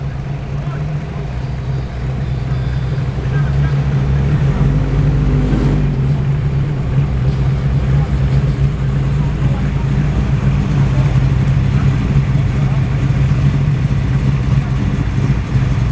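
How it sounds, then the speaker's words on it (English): A modified tuner car engine revs in a car park, building into a loud, sustained droning rumble close by, with a person talking over it. "Somebody's getting excited with the revs in the car park"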